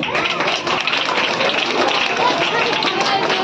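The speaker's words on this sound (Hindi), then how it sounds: "राष्ट्रभक्त वालों के लिए तालियां जोर से बजे।" Children at a school Community Helpers Day celebration clap together in a dense, continuous burst of applause, loud and close, with voices mixed in.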